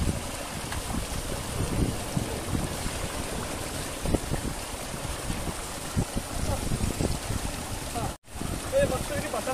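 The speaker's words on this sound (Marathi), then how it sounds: "समुद्र आहे समोर, पूर्ण समुद्र आहे बघा." Seaside ambience at Burondi near Dapoli in Konkan: steady wind buffets the microphone over a rolling wash of sea and surf, with people talking throughout and a brief dropout near the end.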